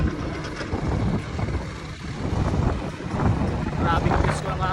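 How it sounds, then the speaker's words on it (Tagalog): Strong outdoor wind on Siargao buffets the microphone with a constant low rumble and roar throughout, while people talk and call out underneath it. "Grabe na brisko ang hangin"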